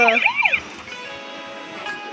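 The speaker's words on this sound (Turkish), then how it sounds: "Aa polis arabası çalıştı" A toy police car siren wails with a warbling electronic tone in a toy store, then fades into a sustained buzzing hum with faint background noise.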